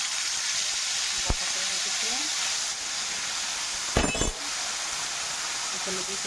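Ginger, garlic and onion paste frying in a pan with a steady hiss and sizzle, broken by a couple of sharp utensil clinks, while someone talks over it.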